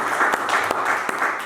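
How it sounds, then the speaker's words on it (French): Church congregation applauding, a dense, steady wash of clapping filling the short moment with a few sharper individual claps standing out. "Acclame le Seigneur, acclame Jésus"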